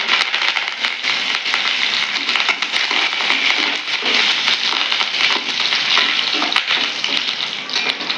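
Curry leaves and dried red chilies frying in hot oil for a Tirunelveli rasam kulambu tempering, a loud, dense, continuous crackling hiss that holds steady throughout.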